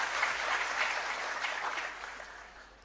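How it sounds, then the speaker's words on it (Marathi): A crowd at a political rally claps in a brief, diffuse burst of applause that fades out over a few seconds, heard from a distance without clear speech. "आता जेवढ्यांनी टाळ्या वाजवल्या"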